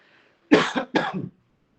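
Two quick, close coughs in succession, each a short rough burst, with quiet before and after.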